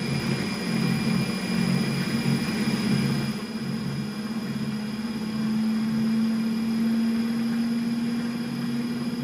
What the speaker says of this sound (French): J'ai un moteur qui fait tourner 4 alternateurs.